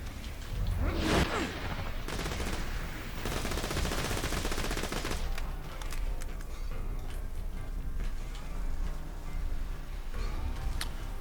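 Rapid pistol fire rattles in the shooter game Borderlands 2 during a fight with infected skags, in quick bursts with whooshes and clicks among them. Dense shots open the stretch, then sparser game effects carry on.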